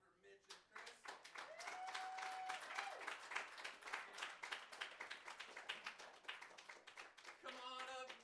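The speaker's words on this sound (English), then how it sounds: "Another round of applause for Mitch and Chris." Lively applause from an open mic night audience for two performers, dense clapping that builds and swells over several seconds, with a sustained whistle and brief voices near the end.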